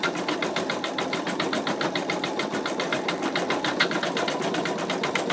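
Embroidery machine stitching out an in-the-hoop wallet, an unbroken, fast, even needle chatter with a motor hum, loud and close throughout with no voices.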